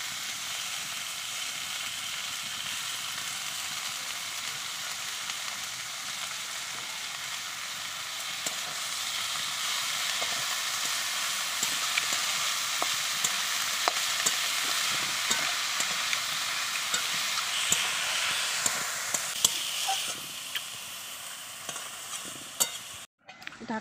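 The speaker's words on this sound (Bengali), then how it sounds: "এবার আলু বেগুনটা আর একটু ভেজে নেব।" Potato leaves frying in a pan with potato and eggplant give a steady, close sizzle and stir, its crackle growing slightly busier midway, with occasional spatula scrapes and no talking.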